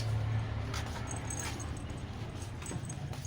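A dog whimpering softly at a house in Calayan, Gonzaga, Cagayan, faint thin whines over a low background hum with occasional small clinks.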